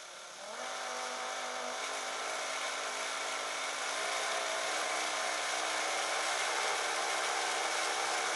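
An electric drill with a 15 mm bit bores a hole through a faience teapot, giving a steady grinding whine that starts abruptly and holds unbroken, fairly close, with no voices.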